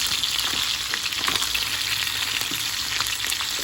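Dalagang bukid fish sizzles and spatters in hot oil, a constant crackling hiss with small pops, close by and without any talking.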